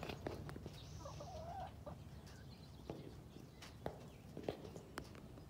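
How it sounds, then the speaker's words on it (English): A fluffy bearded hen clucks softly at a ranch, with a couple of short clucking phrases among scattered footsteps, scratching and quiet outdoor background noise. "look at the size of that chicken"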